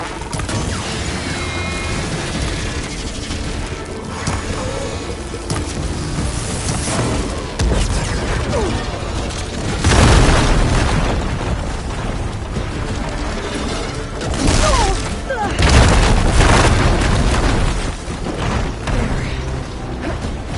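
Explosions and mechanical crashes in the combat of Horizon Forbidden West, with loud booming bursts near ten and sixteen seconds standing out over a dense, continuous layer of game action and clanking machinery.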